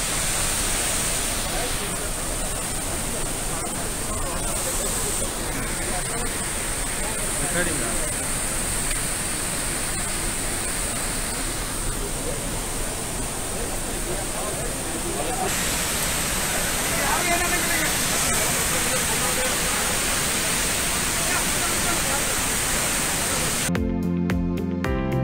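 Dudhsagar waterfall in heavy monsoon rain roars as a steady, dense broadband rush that fills the scene from start to finish, with a brief rattling clatter near the very end.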